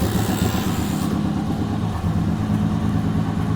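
Vintage vehicle engine started by hand crank, running steadily with a low, throbbing idle that settles slightly after the first second, close and continuous with no voices.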